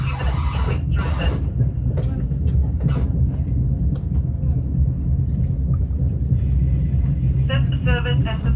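A New South Wales passenger train gathers speed, its steady rumbling wheel and rail noise heard from inside the carriage, with a voice announcement running over it and a brief squealing sound near the end.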